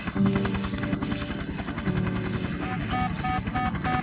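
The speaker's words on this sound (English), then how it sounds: "the president and his guards flew to this base in a helicopter" A helicopter in a Roblox game thumps its rotor in a fast, steady chop with a whining engine hum, close and constant throughout.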